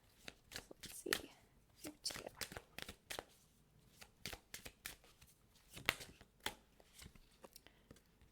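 Oracle cards from a Green Witch Oracle deck being shuffled by hand, a quick run of crisp riffling and slapping bursts at an irregular rhythm, close and fairly quiet, with no talk over them.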